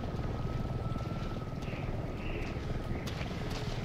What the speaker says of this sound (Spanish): Era un helicóptero, ¿no?